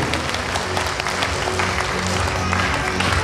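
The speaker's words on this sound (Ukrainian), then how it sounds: "Давайте цими щирими оплесками запросимо керівників колективів на цю сцену." Audience applause at a children's concert welcoming the leaders of the Kaskad vocal and dance ensembles onto the stage, a steady dense wash of clapping throughout with a faint sustained tone beneath.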